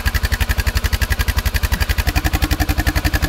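A small charcoal-gasifier ATV engine idles close up with a fast, even, chugging pulse, loud and rhythmic, no talking.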